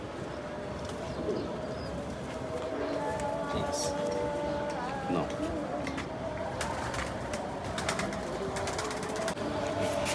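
Tournament racing pigeons coo in a loft, with soft repeated coos close by over a steady background murmur and scattered clatter throughout.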